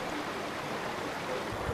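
A cool mountain brook in the Alps flows with a steady, continuous rushing and burbling of water, close and unbroken, with no voices.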